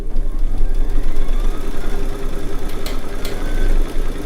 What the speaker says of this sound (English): we're going to press the start button. And this will take about 3 minutes to stitch out this first hooping.